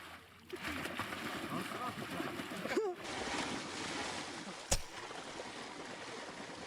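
An amphibious electric dirt bike churns through water, giving continuous splashing and sloshing with a sharp splash midway, while people talk over the watery noise.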